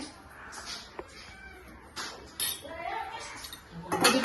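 An egg with a pinch of salt whisked in a bowl in a home kitchen, giving light repeated clinks and scrapes of utensil against the bowl, with faint background voices.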